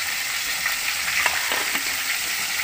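Tuna (tongkol) frying in a pan, a steady broadband oily sizzle with scattered small pops and crackles, close and continuous throughout with no talk.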